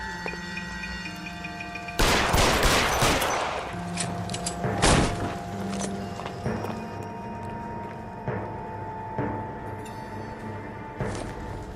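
Bursts of video game gunfire ring out as a player shoots at an enemy, with a loud rapid volley early on, then scattered sharp single shots over a steady game backdrop.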